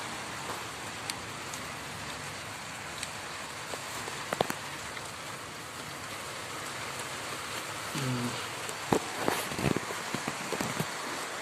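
Light rain falls in a steady, soft patter, faint and diffuse, with a few scattered louder drips and some shuffling steps toward the end.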